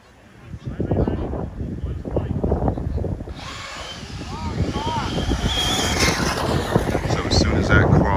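Two-wheel-drive 2S RC drag cars at a hobby track let out a loud, high electric whine that starts suddenly midway and holds to the end. People talk nearby before and under it.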